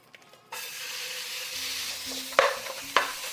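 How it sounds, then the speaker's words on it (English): Ground beef browns in a hot pan for a blooming taco, sizzling steadily while a utensil stirs and scrapes it, with a couple of sharper scraping knocks near the end; no talking. "First step is easy, brown the ground beef."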